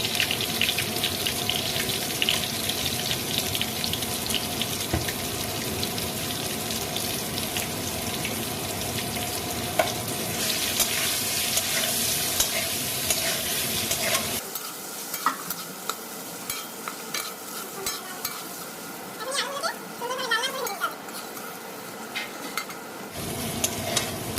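Potatoes seasoned with salt and turmeric frying in a pan for a vegetarian cabbage dish, a steady close sizzle with stirring and scraping, then a quieter, thinner stretch with clattering toward the end, no voices.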